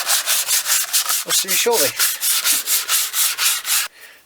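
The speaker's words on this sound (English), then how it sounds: "Still sanding this down, looking nice" Rhythmic back-and-forth sanding on a Les Paul style guitar body, about twenty regular rasping strokes, loud and close, while someone briefly speaks partway through before the scraping stops.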